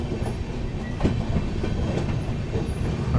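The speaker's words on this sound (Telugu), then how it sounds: "మనకు ప్లాట్ఫామ్ పక్కనే ఒక లైట్ కర్వ్ తీసుకున్నాను మన ట్రైన్" An Andaman Express passenger train with new LHB coaches runs along a light curve beside a platform, a loud, continuous rumble with steady clickety-clack of wheels over rail joints, heard from on board with no voices.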